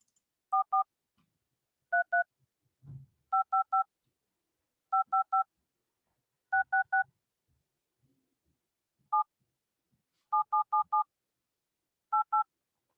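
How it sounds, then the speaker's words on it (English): Telephone keypad dialing tones beep in short clustered bursts of two or three, spaced by pauses across several seconds, clean and fairly quiet against near silence, with a faint thump in between. "It sounds like a phone dial."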